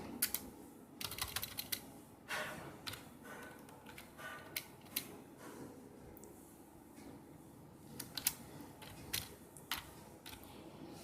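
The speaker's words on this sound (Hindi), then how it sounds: "जब हम कीबोर्ड को इस्तेमाल करते हुए हमारा काम करेंगे" Fingers type on a computer keyboard in irregular bursts of crisp clicks and occasional heavier key strikes, near and fairly quiet, with no talking.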